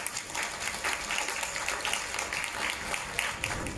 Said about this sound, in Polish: Zapraszam, wielkie brawa, Andrzej Fokt.